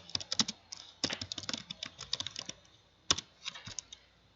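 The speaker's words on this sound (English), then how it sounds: "Just repeat the commands that I type." Computer keyboard typing commands in a lab, rapid close clicking keystrokes in quick bursts with a brief pause before a final flurry, no voices.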